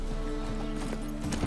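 Horse hooves clip-clop in The Witcher 3 next-gen, a steady, fast trotting rhythm over a background of in-game ambience.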